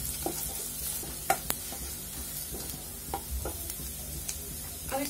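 Cumin and fennel seeds sizzle in hot oil in a pan, a soft continuous crackle broken by a few sharp stirring clicks and scrapes, with no talking.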